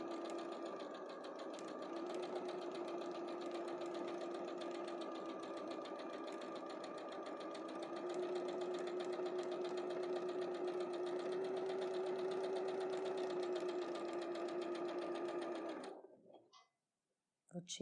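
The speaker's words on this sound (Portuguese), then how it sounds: "Vou costurar um pouquinho." Sewing machine stitching a straight seam along fabric, a steady close whirring hum with rapid needle chatter, rising slightly mid-run before stopping abruptly.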